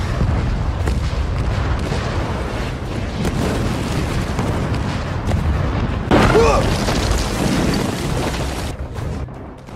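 A heavy, rumbling blast with crackling debris amid chaotic battle noise, a sharp burst flaring partway through, loud and close, from the war film 12 Strong (2018).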